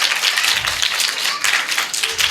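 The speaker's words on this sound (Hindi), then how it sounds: "ज़ोरदार तालियां कलाम के लिए भी हों।" Audience applause at a school gathering, a dense wash of many hands clapping at close range, loud and continuous with no voices over it.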